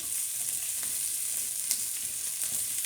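Green beans sizzle and crackle steadily in a hot skillet, a bright, continuous frying hiss with occasional stirring scrapes.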